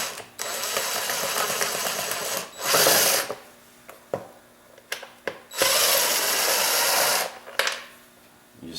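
A power driver removing screws from a Kawasaki KLT 200C during teardown, two long whirring runs and a short burst, close and fairly loud, with scattered clicks and knocks between.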